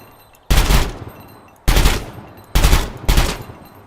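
Loud automatic gunfire from a rifle in the video game Gunsmith Simulator comes in four sharp, booming bursts, each ringing out and decaying before the next, with no voices.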